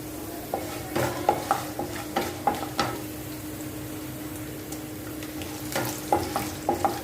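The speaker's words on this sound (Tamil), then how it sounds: "இப்போ நல்லா ஊறு ஊறுன்னு நல்லா கடலைப்பருப்புலாம் வறுக்கணும்" Chana dal roasting in a pan, a dry sizzle under repeated sharp scraping and tapping of a spoon against the pan in irregular bursts, close and clear.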